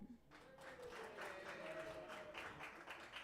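A live audience at a club event claps and cheers to vote in a contest, with a sustained, even wash of clapping and crowd noise heard at a distance and a faint voice briefly rising above it.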